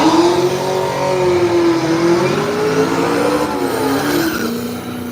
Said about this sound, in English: Man, that car is loud